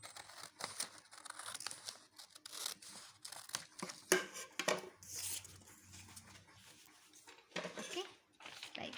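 Scissors cutting a triangle out of paper, with quiet irregular snips and rustling, crinkling handling of the sheet, near and faint, with no talking.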